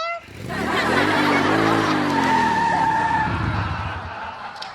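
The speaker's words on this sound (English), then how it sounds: "That roar was from the 9-cylinder engine on my mini bike." Nine-cylinder engine on a mini bike in a Richie Rich cartoon, a loud rising and falling roar with a skidding, squealing edge, lasting a few seconds before trailing off.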